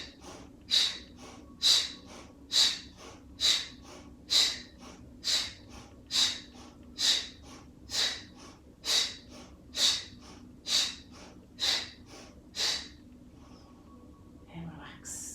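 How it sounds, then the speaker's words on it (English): Fifteen sharp, forceful nasal breaths in yoga breathing practice, evenly spaced about a second apart, close and hissing, ending with a quieter, calmer breath. "Breathing in,"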